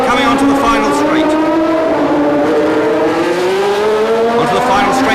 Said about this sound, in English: There's the Ferrari coming onto the final straight.